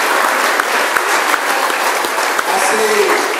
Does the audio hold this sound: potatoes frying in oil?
no